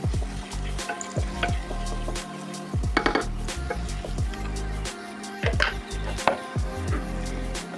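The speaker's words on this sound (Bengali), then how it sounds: "মশলাটা প্রায় কষানো হয়ে গেছে, এবার তেল ছাড়ছে।" Spice paste frying in oil for a paneer kofta curry, a continuous loud sizzle with frequent spoon clatters and scrapes against the pan, close up and without voices.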